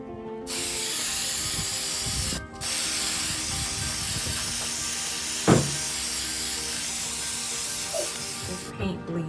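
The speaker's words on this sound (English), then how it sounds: "then spray paint white" Aerosol spray paint hisses in steady bursts as white coats go onto strung Dollar Tree pumpkin garland pieces, the hiss sustained and close with brief pauses between passes.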